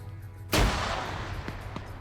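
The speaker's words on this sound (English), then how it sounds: "Ooh, that grenade got someone." Grenade explosion in an online shooter game: a single sharp, loud blast with a long decaying rumble, layered over steady background game noise. Nobody speaks.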